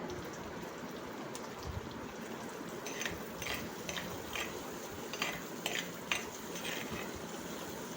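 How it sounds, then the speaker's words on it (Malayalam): A spoon stirs crab roast with turmeric in a pan, giving soft, faint sizzling under a run of light scraping taps against the metal, close and without talk. "മഞ്ഞൾപ്പൊടിയുടെ ഒരു പച്ച മണം മാറുന്നവരെ ഒന്ന് ഇളക്കുക കേട്ടോ"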